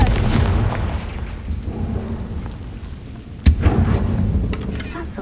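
A Confringo blasting spell in Hogwarts Legacy goes off with one sudden loud boom midway, rising out of a thick rumbling, crackling background and trailing into lingering noise.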